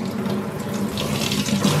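Water pours steadily from an adjustable shower nozzle as it is warmed up for bathing a Shih Tzu puppy, a continuous, even hiss of running water that fills the whole stretch without pauses.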